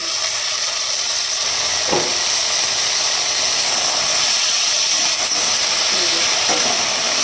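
Strong, continuous steam hiss rises as the lid comes off a pot of potatoes and Malabar spinach stems, loud and close, with a few faint clinks under it.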